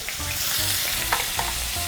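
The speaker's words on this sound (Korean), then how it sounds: "이렇게 한번 지글지글하기 시작하면 불을 좀 낮춰주셔야 돼요" Close, continuous sizzling of shrimp and garlic frying in a hot pan for gambas, with occasional light stirring clicks and pops over the crackle.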